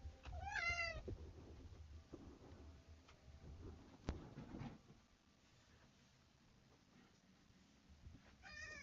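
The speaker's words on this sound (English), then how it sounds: "I don't know if you can hear the cat." A house cat meows in brief high calls near the start and again at the end. Both are faint and sit over a low, muffled background.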